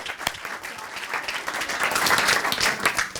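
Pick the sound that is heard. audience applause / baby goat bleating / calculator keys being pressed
audience applause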